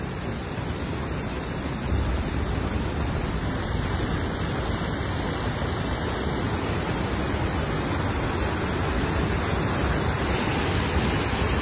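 Heavy torrential rain pours in Roha, Raigad, with floodwater rushing over the road, a loud, unbroken broadband roar of falling and flowing water that stays steady throughout with no voices.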